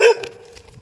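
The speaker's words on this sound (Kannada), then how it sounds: "ಬೆಳಗ್ಗೆ ನಾಯಿ ನಮ್ಮ ನೋಡಿ ಬೊಗಳ್ತಾವೆ" Dog in the morning giving a single short, sharp bark, close and loud, quickly fading into quiet.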